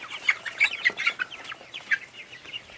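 Heritage chickens of the Shamo and Barred Plymouth Rock breeds cluck repeatedly in a free-range pen, a steady stream of close, moderately loud clucks and calls with no talking.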